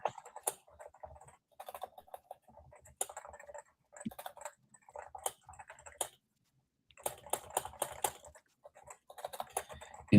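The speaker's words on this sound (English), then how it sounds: "your keyboard sounds nice. Little mechanic." Clicky typing on a mechanical computer keyboard, bursts of close, crisp keystrokes in uneven runs with short pauses between them, no talking.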